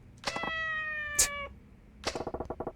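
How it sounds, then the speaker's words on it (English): A cat in the video game Yakuza 4 lets out a long, drawn-out meow close up, then a second call breaks into a quick run of short chirping pulses. No one speaks. "Apparently meowing was the way to go."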